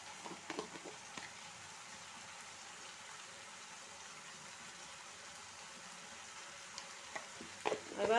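Chili powder and turmeric fry in a pan with a faint, steady sizzle, broken by a few soft clicks and scrapes of stirring near the start and end.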